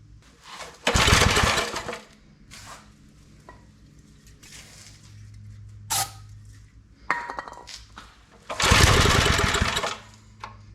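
Homemade wood splitter engine starved of fuel, running poorly after being rebuilt, with carburetor trouble. It surges in loud bursts and sputters, fading to low idle between surges, close by with no talking.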